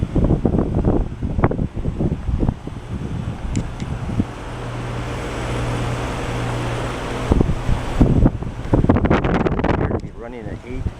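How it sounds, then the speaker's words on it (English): A 1994 Ruud 5-ton air conditioning condenser with its compressor running gives a steady, smooth mechanical hum with fan and wind-like rushing, and a voice talks over it at the start and again near the end. "Here we hear the compressor. It's a smooth operator."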